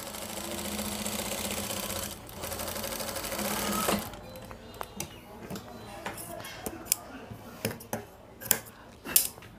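A sewing machine stitches a kolidar panjabi, running in a brisk continuous whir for about four seconds before stopping, followed by scattered sharp clicks and handling knocks.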